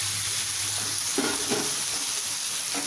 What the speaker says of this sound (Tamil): இப்போ காலிஃப்ளவரை இந்த அளவுக்கு நல்லா வதக்கிக்கணும்.